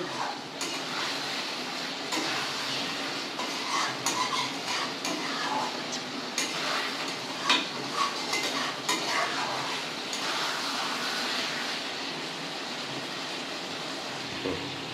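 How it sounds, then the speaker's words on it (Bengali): Potatoes and spice paste for a no-onion, no-garlic dum aloo are sautéed in a pan with steady scraping, clinking utensil strokes against the pan over a soft, continuous frying sizzle that carries on for the whole stretch. "এবার আমি 5 মিনিট আমি আলুর সঙ্গে মশলাটা ভালো করে কষে নেব"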